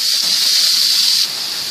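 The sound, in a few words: meat sizzling in a hot iron frying pan with grapeseed oil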